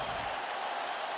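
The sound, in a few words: crowd applauding in the video game UFC 3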